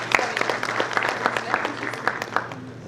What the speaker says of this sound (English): Let me have a big round of applause.